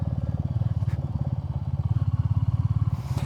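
A brand new Royal Enfield Classic 350 on standard street tires rolls along a gravel road, its single-cylinder engine thumping in a steady rapid pulse, with faint gravel crunch and clatter underneath.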